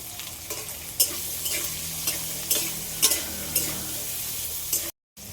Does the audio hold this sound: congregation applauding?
no